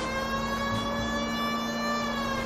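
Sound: police car siren in video game L.A. Noire

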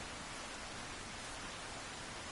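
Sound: heavy rain in video game Resident Evil 4

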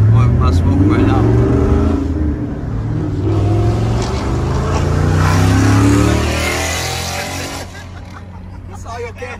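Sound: car with Hellcat engine swap accelerating

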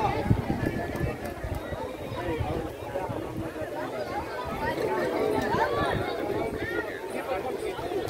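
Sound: cows walking, hooves on ground

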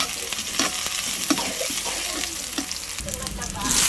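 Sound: sautéing food in a frying pan, sizzling

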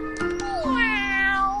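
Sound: cat meowing in a cartoon

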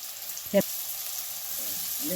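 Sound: onion and green chillies frying in oil

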